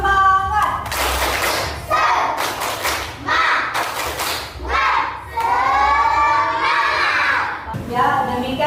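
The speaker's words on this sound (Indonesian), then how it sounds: "Ayo sebelum kita mengakhiri, tepuk semangat dulu" Classroom of schoolchildren doing the tepuk semangat clapping chant with their teacher, bursts of sharp rhythmic claps alternating with loud shouted chanting voices, energetic and close, in short phrases separated by brief pauses.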